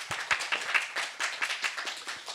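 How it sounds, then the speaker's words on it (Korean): Forum audience clapping to open a session, a brisk round of separate hand claps from a modest crowd that comes through clearly and alone. "여러분의 힘찬 박수로 이번 섹션을 시작하도록 하겠습니다."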